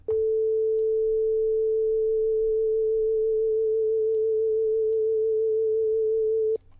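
A single synthesized sine-key note for R&B samples, played without vibrato, holds a pure steady tone for about six and a half seconds at full level and then cuts off abruptly.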